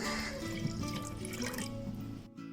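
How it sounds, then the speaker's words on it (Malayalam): Tamarind water pours steadily into a pot of rasam for a sadya meal, a continuous close liquid splash and trickle with faint dripping, alone and fairly quiet, stopping abruptly near the end. "അപ്പോൾ പുളി വെള്ളമാണ് ഞാൻ ഒഴിക്കണത്"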